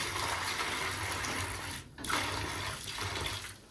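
Water pouring steadily over horse feed to soak it on a horse farm, a continuous rushing splash with a brief pause midway.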